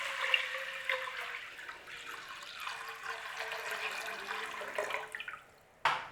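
Water pours steadily into a cooking pot holding rice, a soft continuous splashing rush heard close and fairly quiet, ending with a brief clatter.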